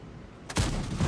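An artillery shell strikes a tank in the video game World of Tanks, a single sudden heavy boom that cuts in after quiet and leaves a dense, rumbling roar trailing off.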